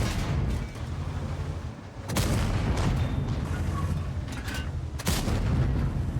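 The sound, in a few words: tank destroyer gun firing in a tank video game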